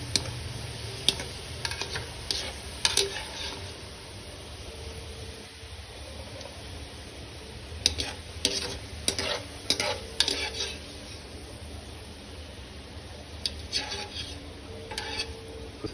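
Chicken pieces browning in frying oil give a constant soft sizzle, with scattered clicks and scrapes of a utensil stirring in the pan, close and fairly quiet.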